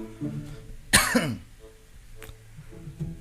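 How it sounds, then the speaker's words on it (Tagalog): A single sharp cough bursts out close by, from a person with a lingering cough, followed by quiet breathing and a faint throat sound afterward. "hindi daw mawala-wala yung ubo ko"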